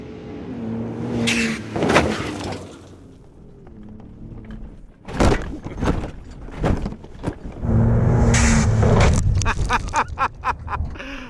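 A custom 2017 Ford Raptor truck off-road: engine revving under heavy thumps and bangs of the suspension as it hits a jump and whoops, with loud rattling jolts in bursts and a surging engine at the end, no clear talk.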